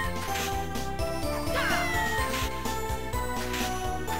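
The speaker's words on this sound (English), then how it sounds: "What the hell's that cat?" A cat meows inside the video game Castlevania: Order of Ecclesia, heard over steady looping game music with chiming tones; the meow is fairly faint and blends into the busy soundtrack.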